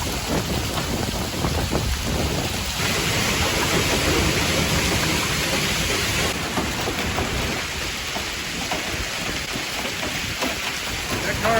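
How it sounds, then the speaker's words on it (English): A gravel-sized hail storm with high wind in Mexico makes a dense, continuous roar of pelting ice and gusting air, loud and unbroken, with a faint voice now and then beneath it. "we're getting gravel-sized hail, pretty high wind"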